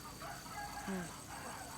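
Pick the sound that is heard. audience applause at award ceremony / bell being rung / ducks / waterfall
ducks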